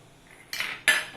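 A spoon mixing mashed potato, sabudana and coarse ground peanut for fasting sabudana vada, two quick clinking scrapes against a bowl, close and brief, with no talk.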